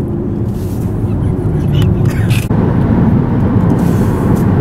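A BMW 535d diesel car engine revving as it climbs a steep hill, a loud, steady low rumble that runs without a break from start to finish.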